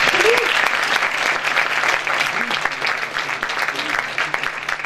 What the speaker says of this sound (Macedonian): еден аплауз ако може.